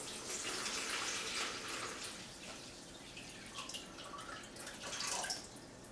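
Water poured into a brine of kosher salt, a steady close splashing and trickling stream running through the whole stretch with shifting intensity, no talk over it.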